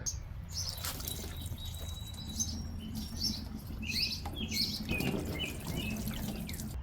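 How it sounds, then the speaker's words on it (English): Plain water is sprayed and rinsed over the headlight of a 2023 Toyota GR86 Premium, a close, continuous patter of splashing and dripping with no speech. "now I'm gonna rinse this off with just plain water"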